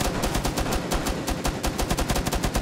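Rapid automatic gunfire from the Rainbow Six Siege video game, a fast even stream of sharp shots in a continuous burst, loud and close.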